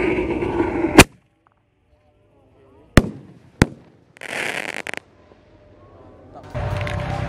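Bazooka-style roman candle firecrackers launch on Eid al-Adha Takbiran night, with sharp, loud bangs spaced a second or two apart, separated by near-silence, plus bursts of crackling and crowd noise between shots.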